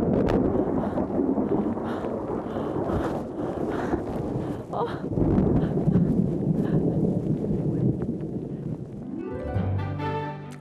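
Thunder rumbles through a winter storm of sleet and hail in Hakodate, Japan, a loud, continuous low roar dominated by heavy wind buffeting the microphone, with a deeper rolling swell toward the end.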